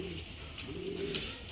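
Steady low cooing rises from a flock of racing pigeons gathered at the loft after a 200 km flight, with soft flutters breaking through now and then and no talk.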